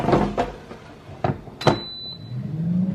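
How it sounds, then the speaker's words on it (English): An air fryer basket slides and clunks into its housing in a kitchen, a few sharp knocks and scrapes close by followed by a short beep, then a low hum as the unit runs, with no one talking. "Now we're gonna put it in the air fryer at 400 degrees."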